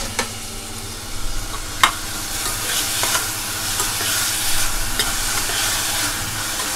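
Cauliflower, peas and potato sautéing in a pan give a steady close sizzle, broken by a few sharp scraping stirs, with no talk.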